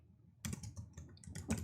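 Fingers type on a computer keyboard in a quick, irregular run of close, crisp key clicks, with no talk.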